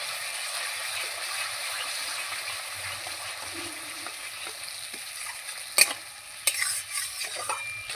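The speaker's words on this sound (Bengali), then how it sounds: "টক দই দেওয়ার পরে মশলা কিছুক্ষণ কষিয়ে নিয়েছি।" Spice paste mixed with sour yogurt fries in a pan for a pangas fish curry, a soft steady sizzle with gentle stirring and a few sharp clicks of the spoon against the pan near the end.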